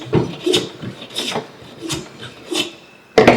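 A wooden workpiece is smoothed in a carpentry workshop with repeated back-and-forth rasping strokes, about five distinct close passes in a steady rhythm, ending with a sharp knock.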